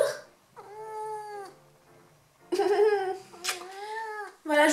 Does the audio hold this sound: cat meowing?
yes